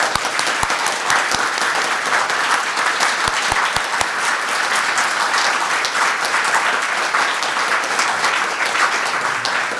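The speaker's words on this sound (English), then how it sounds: "Let's give our candidates a round of applause" An audience at a mayoral candidates forum applauds steadily for the full stretch, with dense clapping and a few sharp knocks or thumps near the start.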